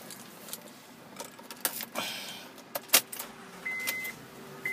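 Someone starts a 2012 Honda Pilot EX-L with a key: keys jangle and click, a short starter crank follows, and the engine settles into a low idle while electronic chimes sound inside the cabin.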